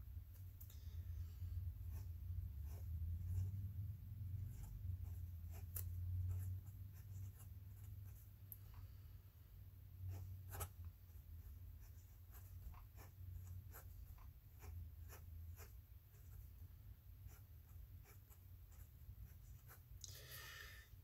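Pen nib scratching across paper while writing in Noodler's Dark Matter ink, a steady soft scritching with small taps between strokes, close and quiet, with no talking.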